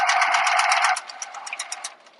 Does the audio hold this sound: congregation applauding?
no